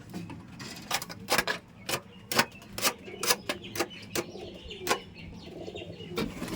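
Pigeons in a wire-netted coop give repeated soft coos and short calls in irregular bursts, close by and moderately loud, with no talking.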